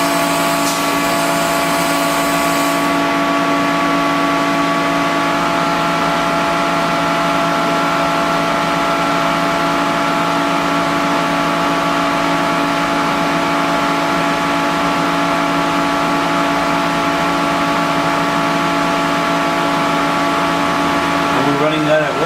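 A Citizen A32VII CNC Swiss lathe spindle spins at about 3,000 RPM, giving a loud, steady mechanical hum with whining tones that runs unbroken for the whole stretch.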